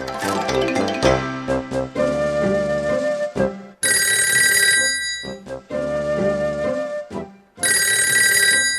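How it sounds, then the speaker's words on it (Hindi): A telephone bell rings in loud repeated bursts with short gaps between them, clear and close, preceded by a brief musical jingle. "फोन की बेल हो रही है।"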